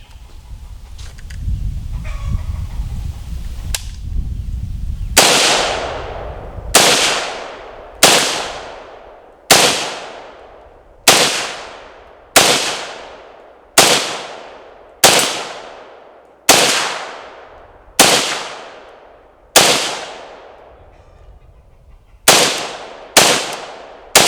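A Palmetto State Armory PSAK-47 GF3 AK-47 rifle is bump fired outdoors, loud sharp gunshots coming singly and in quick pairs at irregular intervals, each followed by a ringing decay, after a few seconds of low rumbling handling noise.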